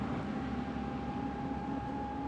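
A Sinclair C5 electric vehicle cruising on flat ground gives a steady whining motor hum with a constant high tone over a continuous low rumble of road noise. The drone stays even and close throughout, with no voices.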